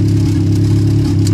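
A car engine fitted with a basic distributor and prepped for sequential injection idles smoothly, giving a steady, close, even low hum with no revving.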